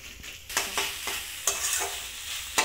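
Food frying in a pan while being stirred during home cooking, a continuous hiss of sizzling broken by several sharp scraping strokes of the spoon at irregular intervals, close and fairly quiet.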